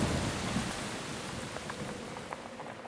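Steady rain pours down over fields of crops in a continuous broadband hiss, with a low rumble of thunder early on and a few brief drip-like taps later, all fairly close and with no voices.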